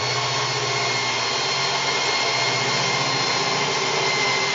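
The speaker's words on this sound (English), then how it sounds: "He can't hear me. He's got the drill going." A constant, loud motorized whir runs throughout, steady and close, like a power drill held on without pause.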